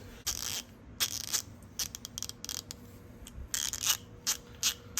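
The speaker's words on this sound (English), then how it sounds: "it's got a nice ratcheting action" An Icon 3/8-inch ratchet wrench clicks in quick, irregular bursts of sharp, close ratcheting, with short pauses between turns and no talking.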